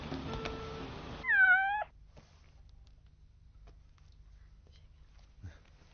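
A cat gives one clear, rising and falling meow up close after a stretch of louder background sound, then things go quiet apart from faint low rumble and a small knock.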